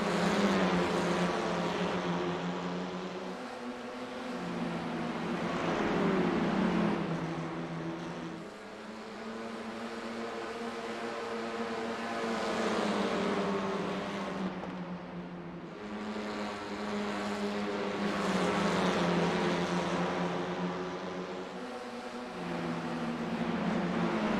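Honda Civic Type R race car engines heard onboard in a racing game at Five Flags Speedway, a loud sustained engine drone rising and falling in repeated cycles of acceleration and shifting, with no one talking.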